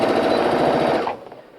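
A sewing machine stitches a half-inch seam on a pillowcase, a loud, fast, steady rapid-fire clatter for about a second before it stops, leaving quieter handling noise.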